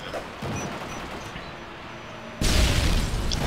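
An explosion in the Modern Warfare 3 video game lands as a sudden loud broadband boom partway through, cutting over a steady background of game noise and rumble.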